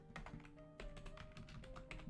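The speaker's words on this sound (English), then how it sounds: "I am literally typing this up as I'm talking." Quick, quiet clatter of a computer keyboard, uneven bursts of key taps and clicks following one another over a low background hum, close and unaccompanied by speech.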